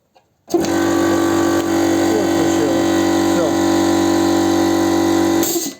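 A Forte 50-litre air compressor with a starting problem kicks on abruptly. Its loud motor then hums steadily and evenly for about five seconds before cutting off.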